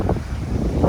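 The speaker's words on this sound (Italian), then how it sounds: "c'è ancora un sacco di vento" Strong wind buffets the microphone on a beach by a historic town centre, a steady low roar with gusts rising near the end, no voices.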